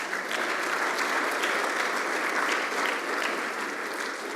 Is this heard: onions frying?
no